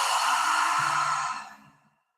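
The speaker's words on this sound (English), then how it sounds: "And exhale out the mouth." A single slow exhale through the mouth during a breathwork exercise, a soft breathy whoosh that holds steady and then trails off to silence.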